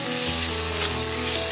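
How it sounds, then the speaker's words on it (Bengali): Onions fry in hot oil with a loud, dense, close sizzle that holds steady throughout, joined by the sound of stirring, with no voices present. "পেঁয়াজ ভাজতে ভাজতেই লবণ দিয়ে দিচ্ছি।"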